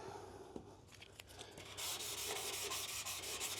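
Sandpaper rubs steadily across an aluminum C10 grill during a restoration, a close, continuous scratchy grind that starts lighter and grows louder and denser after the first couple of seconds, with no talking.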